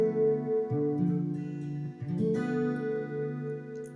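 Electric guitar through a Fender Mustang amp with compressor, chorus and spring reverb, playing soft sustained chords that shift a few times, smooth and shimmering with a lingering reverb tail, close and moderately quiet with no talking.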